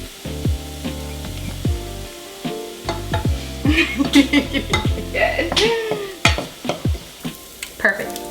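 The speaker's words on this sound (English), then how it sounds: "now that we sauteed the onions, they've sweated a little bit" Onions sautéing in a pan before a beer-braised brisket, a soft sizzle under repeated clinks and knocks of a utensil on the pan, with one brief metallic squeal, close and busy.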